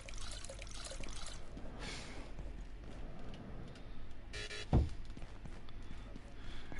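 Water trickles and pours onto a farm plot in the video game Abiotic Factor, a soft continuous flow with a brief louder splash near the end, fairly faint.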